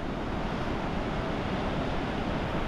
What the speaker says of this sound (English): That wind's coming straight off the sea, southerly.